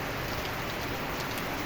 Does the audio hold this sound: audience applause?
no